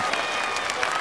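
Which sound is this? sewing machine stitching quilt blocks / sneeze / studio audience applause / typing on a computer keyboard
studio audience applause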